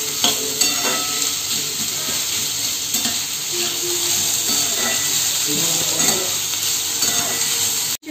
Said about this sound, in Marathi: शिमला मिरची टाकली आहे.